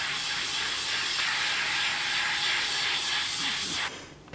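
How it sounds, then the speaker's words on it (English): An Iwata Revolution airbrush sprays paint onto paper in a loud, steady close hiss that holds for about four seconds, then cuts off abruptly. "First of all I'm going to test it on the paper to see how it's spraying"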